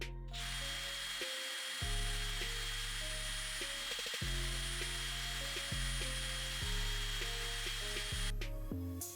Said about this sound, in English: I've just got a little brush here in my drill, and I'm gonna get in there and try to clean that stuff off